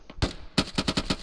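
Several sharp gunshots crack in quick succession from a military video game, one isolated report followed by a rapid run of five or six evenly spaced shots, loud and close with no talking.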